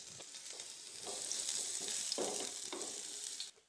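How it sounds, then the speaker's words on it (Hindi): Sliced onion dropped into hot oil with cumin in a pan, giving a soft hiss and crackle that swells for a few seconds and then fades out. "मैं एक प्याज डालती हूँ।"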